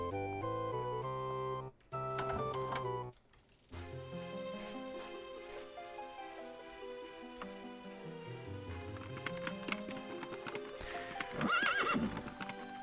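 Rhythmic clip-clop of horse hooves with a neigh in The Elder Scrolls: Daggerfall, layered over game music and effects, with no talking.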